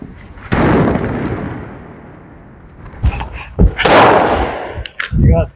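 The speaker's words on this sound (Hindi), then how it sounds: "जैसा कि आप देख सकते हो कि इस बम ने हमारे ताले को खोल दिया" A sutli bomb firecracker set on a padlock: a loud blast near the start leaves a long decaying rumble, followed by several sharp bangs and cracks later on, outdoors and close.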